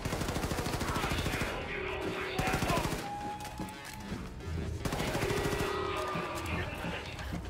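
Bursts of rapid automatic gunfire from the video game Wolfenstein II: The New Colossus, loud and repeated in clusters with brief pauses, with a voice talking between the shots.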